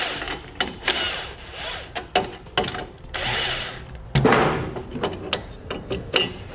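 A power tool loosens the front bolts while helper springs are fitted on a 2007 Toyota truck. It comes as a series of short, loud, whirring bursts separated by brief pauses and clanks, close up and with no talk.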